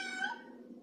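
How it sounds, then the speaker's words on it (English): A cat named Charlie gives a single short meow somewhere in the room, clear and tonal, with no voices over it. "And if you hear meowing, that is Charlie in the background."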